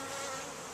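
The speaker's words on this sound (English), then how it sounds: "This seems like a lot more bees than I thought that were in there." Honey bees from a newly arrived package buzz in a dense, continuous hum, steady and fairly quiet for under a second, with no voices.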